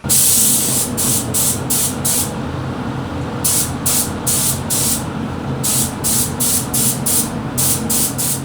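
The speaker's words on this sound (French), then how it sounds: "la soufflerie a fait un petit peu de bruit" The air blower of a paint spray gun hisses loudly and steadily during car painting, close up, with regular pulsing bursts of higher hiss layered over the constant rush.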